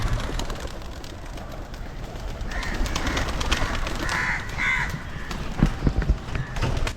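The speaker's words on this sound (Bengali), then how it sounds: "তার বাড়িতে বিভিন্ন প্রকারের পায়রা রয়েছে।" Pigeons and doves at a pigeon keeper's house give low, faint cooing calls now and then over steady ambient noise, with a few louder thumps or flutters near the end.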